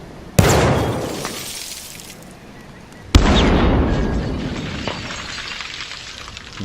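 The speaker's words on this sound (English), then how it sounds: "I'm gonna throw this grenade again just to show you that the shrapnel isn't what actually destroyed the glass" Two loud grenade blasts in Battlefield 1, each a sudden broadband bang followed by crashing, shattering glass and a long debris-filled decay, the second about three seconds after the first.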